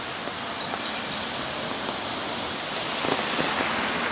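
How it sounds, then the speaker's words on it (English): Light drizzle patters steadily on a street in China, a soft continuous wash of fine droplets with a few slightly sharper drips near the end, no voices. "that rain's eased off down to drizzle now"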